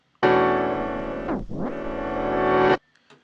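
A sampled excerpt of a song recorded from a turntable, a dense sustained music chord that dips sharply in pitch and volume midway as the record slows, then swells back up before cutting off abruptly.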